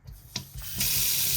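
A kitchen tap runs into a sink to rinse bones for broth: a few brief splashes, then a steady, close, loud rush of flowing water.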